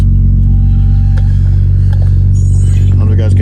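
An Acura TL Type-S with a six-speed manual and RV6 exhaust starts from cold and settles into a loud, steady deep idle rumble, with people talking over it.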